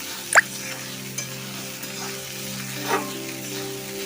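Poha is stirred in a pan over a low gas flame, a gentle background sizzle with a couple of light scraping strokes and one sharp clink near the start, no talking.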